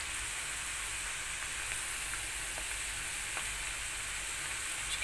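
Sausage fries in oil in a pan, giving a steady, dense sizzle that holds evenly throughout with a few faint pops and no voices.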